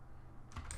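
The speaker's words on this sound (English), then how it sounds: "notice when I start typing" Brief, soft keyboard typing heard close up for under a second, a couple of light key taps over a low steady room hum while someone searches for keywords on a computer.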